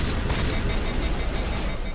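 Shotgun blasts from the sci-fi shooter Mass Effect Legendary Edition, dense and steady gunfire with booming low end, continuous and loud throughout with no clear gaps.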